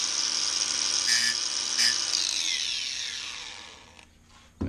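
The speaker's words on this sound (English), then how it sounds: "there's a little burr because I just used the grinder, so I'm just going to lightly" A handheld power grinder lightly takes a burr off a metal edge, its high whine loud at first, with a couple of brief bursts before it winds down to quiet and a faint clunk at the very end.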